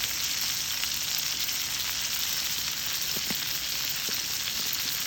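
French fries and bacon bits fry in a pan over a camp stove fire, giving a steady, close sizzle with faint crackles and a few soft stirring knocks, no voices.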